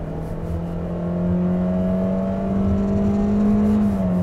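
A Toyota Corolla Cross 1.8 with a CVT accelerates, and its engine holds a smooth, steady drone that climbs slightly and grows louder over a few seconds inside the cabin.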